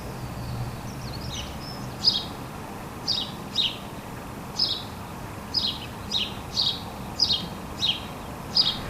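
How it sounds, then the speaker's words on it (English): A baby magpie calling in a garden, giving a series of short, harsh, squeaky chirps repeated at a steady rhythm about every half second, fairly clear against quiet background rustle. "The baby magpie's sounds are very off-putting."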